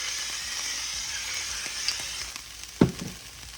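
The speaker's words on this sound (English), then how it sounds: "we're gonna start by sauteing this" Diced vegetables fry in a pan with salt and pepper, giving a continuous bright sizzle and one louder clatter of stirring near the end.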